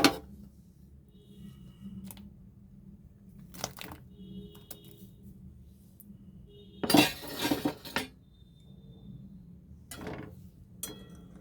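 Utensils clink against a dish as paneer pieces are added one by one to milk, several separate bright clinks and scrapes spaced a second or two apart over a quiet background, with one louder clattering burst in the middle.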